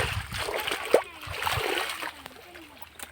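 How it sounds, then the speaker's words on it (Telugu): Water splashes and gurgles irregularly as it is poured onto an ivy gourd plant in a village garden, with soft sloshing continuing at close range. "దొండ చెట్టుకైతే నీళ్ళు అయితే కడుతున్నారు"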